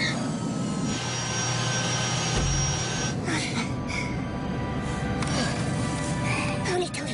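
A jet airliner comes in to land in a dramatic film scene, a broad, steady roar of engines and rushing air that fills the whole stretch at a constant level.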